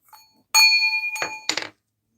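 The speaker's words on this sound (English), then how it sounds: "I'm going to hit a bell." A small bell struck once, ringing out with a bright sustained tone, followed by a couple of quieter clinks and knocks close by.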